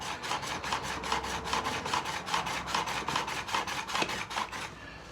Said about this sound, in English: I'm getting a lovely sharpening on the end of that there